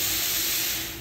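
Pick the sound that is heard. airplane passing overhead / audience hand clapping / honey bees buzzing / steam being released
steam being released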